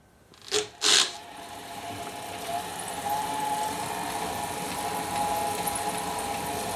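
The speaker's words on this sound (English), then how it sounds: "I'll ramp this up on the bicycle and the alternator to about 1600 RPMs at the alternator side" Car alternator driven by a pedalled bicycle, spinning up to about 1600 RPM: two sharp clunks, then a steady whirring motor drone that rises in pitch and holds, fairly close.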